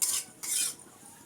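Chow mein is stirred in a pan, two short scraping, sizzling swishes of a utensil close by, separated by a brief pause.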